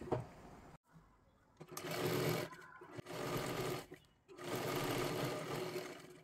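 A sewing machine stitches a katori blouse in three quick, buzzing runs with short pauses between them, close and clear at a tailoring table.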